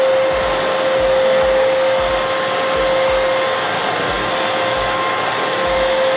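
An Arnica Vira washing vacuum cleaner works over a carpet, giving a loud, steady close-up roar with a constant whine and faint rhythmic pulses as the nozzle is drawn back and forth, with no speech.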